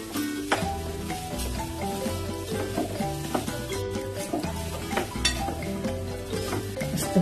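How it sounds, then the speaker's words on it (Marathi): Dry grated coconut sautéed in a pan for a beetroot halwa, with a spatula stirring and scraping in an irregular rhythm of soft clicks and a faint sizzle, close by and partly under steady background music. "एक दोन मिनटं खोबऱ्याचे केस परतून घ्यायचे आपल्याला"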